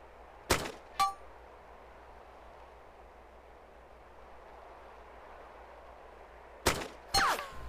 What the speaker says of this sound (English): I want to shoot 5 rounds downrange